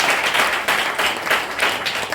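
A seated audience at a DXN success-story event claps together in loud, pulsing waves of applause, with no talking over it.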